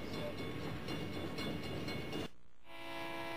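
A train rolls through a level crossing while warning bells ring and horns blow, a steady loud rumble of rail noise for about two seconds before it cuts abruptly to quieter ambience.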